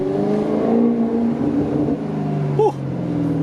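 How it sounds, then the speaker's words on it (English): A 2019 Maserati GranTurismo's engine hums steadily at a moderate, close idle-like level, with a short sharp rise in pitch near the end like a quick blip of the throttle. "you guys heard the sound clips of me revving the car, but wow, it sounds so nice"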